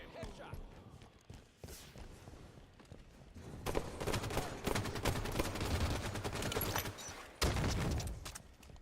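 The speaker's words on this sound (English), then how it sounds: "Assault rifle kill." Assault rifle gunfire in a remade Halo 2 level, rapid bursts of close shots crackling in clusters amid game effects, with a voice talking over parts of it.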